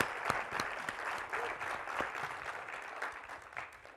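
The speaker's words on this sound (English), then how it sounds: "That calls for applause." An audience at a State of the District address applauds, a moderate round of clapping with a few crisp, close claps over the general patter, tapering off toward the end.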